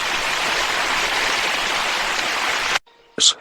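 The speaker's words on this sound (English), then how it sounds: "But then there's a downpour of rain." A heavy downpour hisses evenly as steady broadband noise, then cuts off abruptly near the end, followed by a brief pause and a short closing burst.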